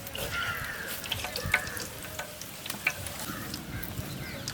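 Fennel seeds dropped into hot oil sizzle outdoors while cooking village rabbit biryani, a steady bright crackle with a few sharper pops, close and continuous.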